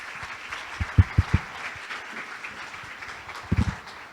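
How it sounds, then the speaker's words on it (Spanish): An audience applauds to welcome speaker Gustavo Aguilera at a business talk, a soft, steady patter of clapping from a large room with a few louder, low thumps standing out near the start and again near the end. "Le damos un fuerte aplauso a Gustavo Aguilera."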